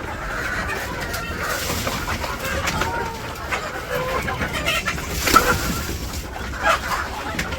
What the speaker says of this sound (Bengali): যে কত মুরগি ঢুকছে ভিতরে।